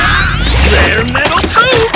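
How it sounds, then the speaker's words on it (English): Giga Destroyer attack from the Digimon Story: Time Stranger video game: a dense burst of whooshing, sweeping effects with heavy low-end impacts, loud and continuous for about two seconds, over game music. "Giga Destroyer!"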